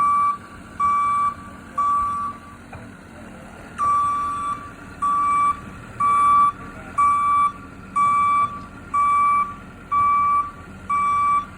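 Alongside a New Holland C238 skid steer moving a double wide home, a loud, regular electronic reversing beeper sounds in evenly spaced pulses, with steady engine rumble running underneath.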